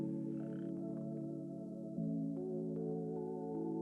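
Frogs croak in a Minecraft frog farm, a steady layered drone of low tonal croaks with a shift in pitch midway, joined by a few soft clicks, with no talk over it.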